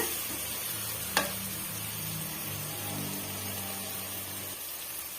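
Vegetables sautéing in a pan for egg biryani, a soft steady sizzle close by with one sharp utensil tap early on, over a low humming drone that runs through most of the clip, no talking.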